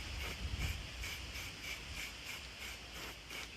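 A spray paint can hissing in steady, slightly pulsing bursts at close range, laying paint on thick, with no voices over it.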